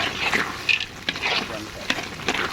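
A kilo of peanuts is stirred into cooked sugar, a soft scraping and sizzling with rhythmic strokes of the spoon under a person talking.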